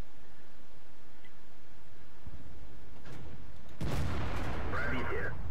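A tank cannon firing in the video game World of Tanks, with one heavy boom and its rumbling tail over steady game noise and mouse clicks, followed by a rough burst of impact.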